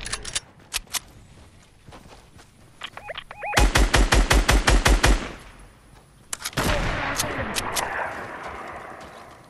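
Gunfire in a squad battle royale video game: a few sharp single shots, then a rapid, loud automatic burst of about a dozen rounds, followed by a longer roaring, crackling stretch of fire.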